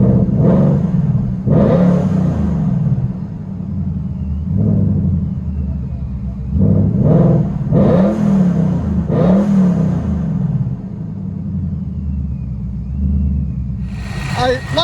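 A 720hp procharged Ford Mustang GT 5.0 V8 with long tube headers and a Solo Performance exhaust, heard from inside the car as a steady rumbling idle broken by a series of short revs.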